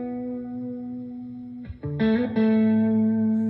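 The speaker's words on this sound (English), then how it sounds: "Had an octave down on that reverb for a second." A sustained electric guitar note rings with effects, then briefly cuts out and returns thicker as a reverb glitch adds a lower, distorted octave-down layer under the tone.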